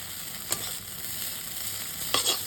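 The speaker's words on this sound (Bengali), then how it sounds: "একদম ফ্রাইড হয়েছে, পুরো ফ্রাইড।" Maggi noodles fry and sizzle in a pan, a steady close hiss with a couple of brief louder bursts as they are stirred, no voices.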